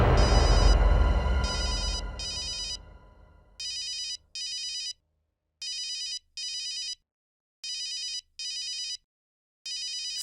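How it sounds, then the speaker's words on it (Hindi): A telephone rings in repeated electronic bursts, pairs of trilling rings separated by pauses, loud and clear as a louder rumbling sound fades out at the start. "डॉक्टर नियति का फोन है, क्या करूं?"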